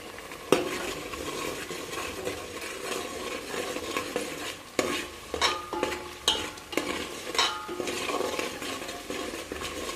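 Pav bhaji masala fried in a pan and stirred, with a spatula scraping and clinking against the metal over a steady sizzle, quicker scraping strokes at the end, no talking.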